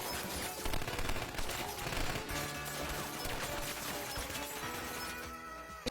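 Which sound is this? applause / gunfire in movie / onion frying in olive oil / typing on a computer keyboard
gunfire in movie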